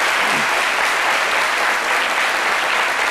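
A studio audience applauds during a television talk show, a loud, dense, unbroken wash of clapping from many people that holds steady throughout.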